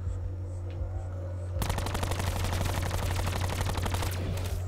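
Sustained rapid machine gun fire in Call of Duty Black Ops 4 Zombies, erupting suddenly after a low background hum and continuing as a dense, loud automatic burst to the end.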